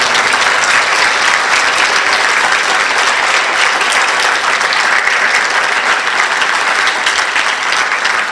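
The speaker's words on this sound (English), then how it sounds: "If everyone can please just give another applause for the poets." Loud, continuous applause from an audience at an Imam Ali birth celebration event, honoring poets, a thick even wash of many hands clapping that holds steady throughout.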